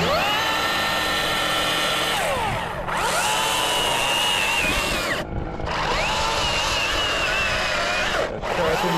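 A chainsaw chain is sharpened with a powered grinder, giving a loud, continuous high-pitched grinding whine that dips and swoops as each tooth is touched, with short breaks between passes, close by and without talk.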